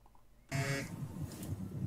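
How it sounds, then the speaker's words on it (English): A phone buzzes in the video game Vampire: Bloodlines 2, starting abruptly as a loud, sustained harmonic drone that holds steady over a low rumble. "I think I just heard the phone buzz."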